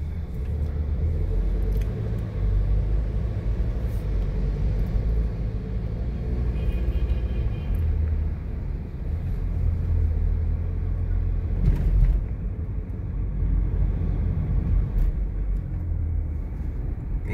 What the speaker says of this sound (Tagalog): Medyo maganda pa yung daloy ng traffic mga trip sa oras na 11:36 sa katanghalian.